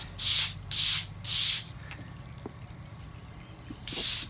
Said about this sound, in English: You can take a little extra time here scrubbing so you all can see what the wire brush will do now.